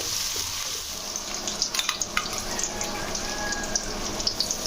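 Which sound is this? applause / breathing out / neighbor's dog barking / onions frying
onions frying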